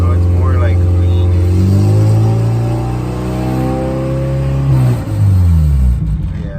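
A turbocharged Honda Civic engine idles with a steady, loud low rumble, its pitch drifting slightly and dipping briefly near the end, with a voice talking over it.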